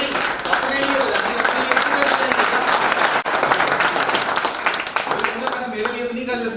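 An audience at a business seminar claps loudly and steadily, with a brief dip midway, and murmured voices come through the applause.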